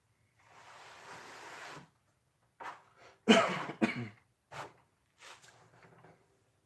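A burst of rough noise followed by several sharp, dry coughs in a row from a person with a cold, close to the microphone, then a couple of softer trailing coughs.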